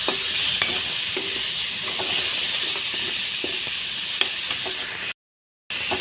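Onion and green peas fry in a pan with a small splash of water, giving a steady close sizzle with occasional stirring taps, then cutting out abruptly near the end.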